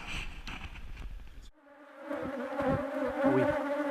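Bees buzzing around beehives being set up to move the colony: a short burst of muffled handling noise, then a brief gap, then a steady layered drone of many bees humming close by.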